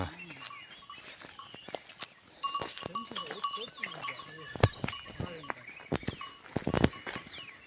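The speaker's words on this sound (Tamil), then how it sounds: "மாடு கழுத்தில் மணி கட்டி விட்ருக்காங்க" Cow bells hang from the necks of cattle grazing in a misty hill forest near a Karnataka temple, ringing in scattered clanks at middle distance, mixed with bleating animals and bird calls.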